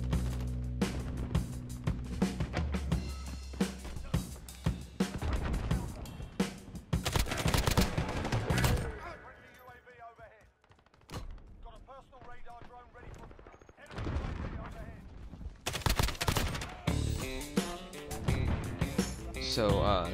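A KILO 141 assault rifle is hip-fired in a first-person shooter video game: rapid automatic bursts and single shots come in clusters, with a quieter stretch midway, while someone talks over the gunfire.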